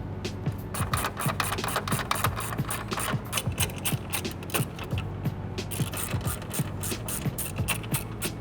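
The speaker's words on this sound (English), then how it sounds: "Next, reinstall the 4 10mm bolts." A hand ratchet reinstalls 10mm bolts on a Dodge Ram grille, producing quick repeated clicking strokes in a steady rhythm, close and clear.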